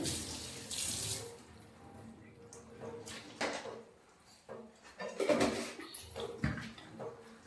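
Tap water runs and splashes while goat tripe is rinsed clean in a kitchen sink, a steady gush with surges and wet handling noises, a few clunks of pots, close by with no talk.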